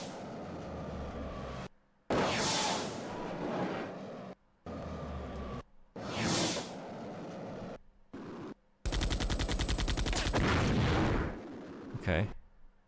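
Bursts of rapid gunfire from a video game crackle loudly in several blocks separated by brief silences, with one long sustained volley near the end.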